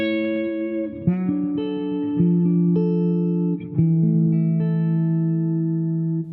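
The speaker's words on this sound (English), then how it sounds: "we've already heard the neck pickup" A Suhr Modern T HH electric guitar on its neck pickup through a clean channel rings out sustained chords and notes, changing a few times in a steady, even rhythm, close and moderately loud.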